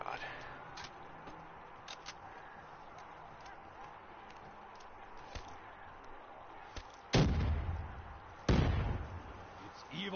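Grenades go off among zombies in a video game: two sharp, fairly loud explosions near the end, after a stretch of quieter game noise with scattered small pops and faint talk.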